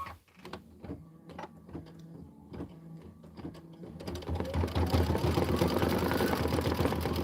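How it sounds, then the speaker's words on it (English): An embroidery machine stitches a flower design into linen, starting with a run of sharp, evenly spaced mechanical ticks that then build into a denser, louder, continuous whirring hum. "It's stitching out the flower detail,"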